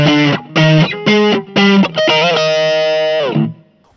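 An electric guitar run through a BOSS GT-1 multi-effects unit with distortion plays four choppy chords, then a sustained, saturated note that rings for about a second before cutting off, loud and close.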